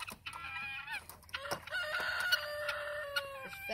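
A rooster and guinea fowl fight loudly close by, with a burst of harsh squawks, clucking and rising crowing calls that overlap and clash amid flapping scuffle noises.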